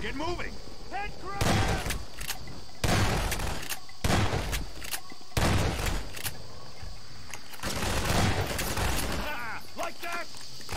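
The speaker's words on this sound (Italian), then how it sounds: "Quanto è bello sparargli in faccia così, ok, tanto tutto sta esplodendo." Gunfire and explosions in the first-person shooter Half-Life 2, with bursts of shots and blasts recurring at irregular intervals over a steady background, while someone talks throughout.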